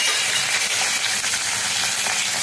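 Green chilies frying in a pan for white pulao while being stirred, a loud, steady close-up sizzle and hiss running unbroken throughout with no voices.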